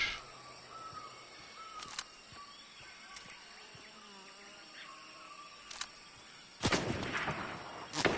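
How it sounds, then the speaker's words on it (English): Gunfire in the video game Fortnite, heard as a few sharp, distant cracks spaced across a quiet stretch, followed by a louder close burst near the end over a faint ambient background. "are they shooting at me?"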